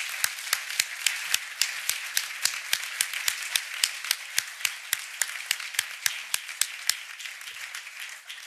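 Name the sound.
audience applause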